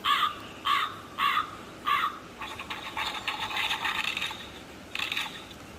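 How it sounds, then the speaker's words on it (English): A crow cawing during a storybook reading of Snow White, four loud, evenly spaced harsh caws followed by a longer rattling burst and one more caw, heard alone and close. "A crow running to Snow White"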